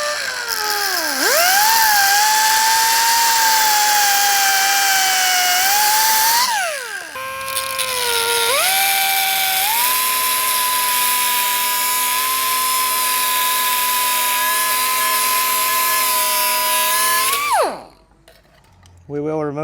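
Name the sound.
power tool cutting the end off a Bronco strut stud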